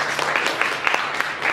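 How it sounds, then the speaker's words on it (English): An audience applauds one another at a motivational workshop in Biloxi, a dense, steady patter of hand claps at close range with a few sharper individual claps rising above the crowd. "Give yourself a hand clap"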